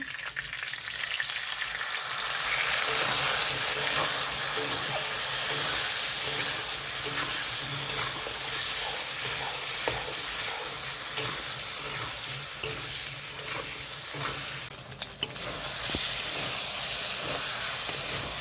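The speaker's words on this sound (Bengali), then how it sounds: "ভালো করে মশলাটা কষিয়ে নিয়েছি আলুর সঙ্গে" Potatoes fry with turmeric, salt, chilli powder, cumin paste and ginger-garlic paste in a pan for a rohu fish curry, a continuous loud sizzle with hissing steam and occasional stirring scrapes, briefly dipping near the end.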